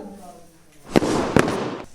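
Firecrackers go off during Diwali celebrations with two sharp, loud bangs about half a second apart, amid crackling and people talking.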